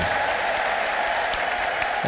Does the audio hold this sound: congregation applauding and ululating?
yes